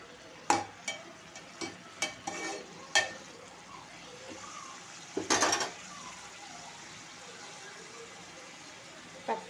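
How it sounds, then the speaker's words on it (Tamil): Meat curry being stirred in a pot with turmeric and salt gives off a series of short scraping and clinking strokes of a spoon against the pot, spaced irregularly over a low, steady background. "மஞ்சள் பொடி தேவையான உப்பு போட்டு கிண்டி விட்டுக்குருவோம்."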